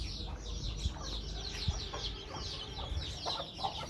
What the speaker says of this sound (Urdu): یہ سیل چوزے ہیں ہمارے